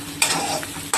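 Soybean chunks and potatoes for a curry sizzle in a pan while being stirred, with two sharp scraping stirs standing out above a steady frying hiss in a short, close burst.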